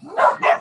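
Two excited dog barks or yips in quick succession, close and fairly loud, with a short gap between them and no voices over them.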